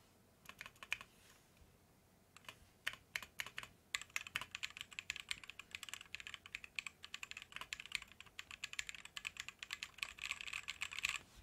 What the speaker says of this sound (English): I like the sound of all the other keys